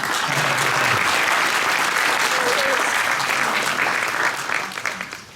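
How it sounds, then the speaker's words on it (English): A room full of people at a community choir Christmas concert applauds steadily, a dense wash of clapping that holds for several seconds before tapering off at the end. "Quick round of applause"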